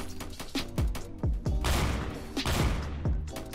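Gunfight in the Roblox shooter Strucid: a string of punchy, booming gunshots fires in irregular succession, each with a low thump, over a noisy, busy game background.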